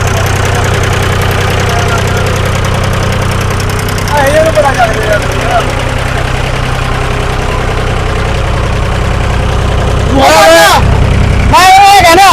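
A boat engine chugs steadily on a dam lake, a low, continuous rumbling idle heard close, with people talking over it and brief louder bursts near the end.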